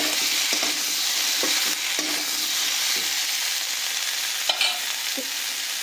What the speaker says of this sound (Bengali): এখানে দেখো সব সবজিগুলো আমাদের খুব ভালোভাবে ভাজা হয়ে গেছে